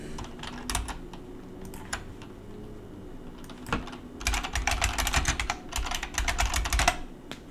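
Keys tapped on a computer keyboard, close and crisp, starting as scattered clicks and then turning into rapid bursts of typing toward the end.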